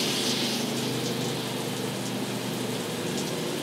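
Steady rush of water running from an RV shower faucet during winterizing, continuous and fairly close with an even hiss and no talk.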